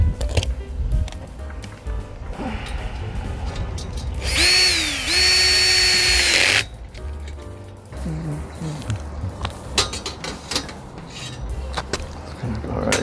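A power drill tightening bolts on solar panel racking in a garage, a single loud, close whirring burst of about two seconds amid handling clatter, with a person talking nearby.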